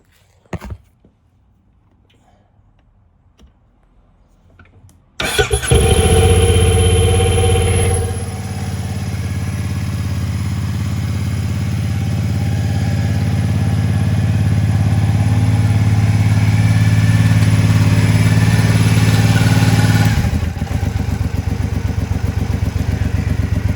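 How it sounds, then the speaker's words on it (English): A Harley-Davidson Speedmaster motorcycle with new aftermarket exhaust pipes starts with a sudden loud crank and catch, settles into a deep, throbbing idle that swells slightly, then drops in level near the end, close and loud. "let's start it up"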